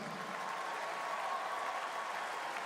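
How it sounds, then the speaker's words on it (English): A basketball crowd at an NBL game between the Brisbane Bullets and Perth Wildcats claps steadily, dense applause at a moderate distance that holds constant throughout without cheering or pauses. "Could you please give a big round of applause to Brendan one more time?"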